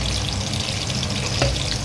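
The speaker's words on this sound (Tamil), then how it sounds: "வெங்காயத்தை நல்லா வதக்கணும்மா." Onions sizzle and sauté steadily in a hot pan for an Indian egg curry, a close, continuous frying hiss with a brief stir or clink near the end.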